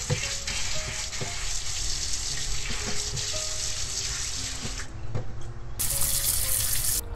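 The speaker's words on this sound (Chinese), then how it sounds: "我们把芋头清洗干净" Taro being rinsed clean under a running tap in a home kitchen, water spattering and rushing steadily and loudly into a sink, with a brighter splashing burst near the end.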